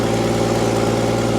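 A Willys engine idles steadily and evenly after a cold choked start, a close, constant low rumble with no voices over it.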